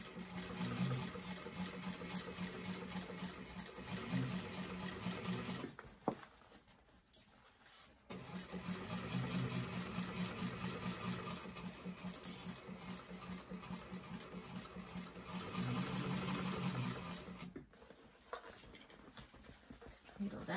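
A sewing machine stitches a gradual curve on a fabric bag in several runs, each a steady close whir broken by brief pauses, with a voice talking over parts of it.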